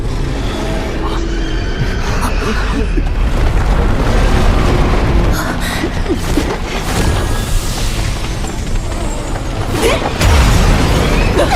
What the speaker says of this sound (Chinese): 得在兽潮到达之前轰开这堆乱石